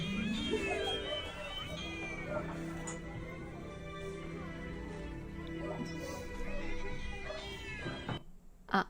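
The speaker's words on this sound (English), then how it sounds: "Even the music is cats." Recorded cat meows set to music play from a store's sound system, repeated mewing phrases over a steady musical backing with faint background chatter, cut off abruptly near the end.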